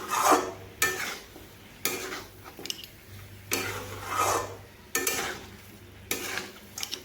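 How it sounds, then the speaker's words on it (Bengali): A spoon scrapes and stirs papaya and fish-head curry with ground garam masala in a pan, in close, rhythmic bursts of scraping roughly every second, with a soft sizzle between strokes and no talking. "এইভাবে আমি মিশিয়ে নিচ্ছি"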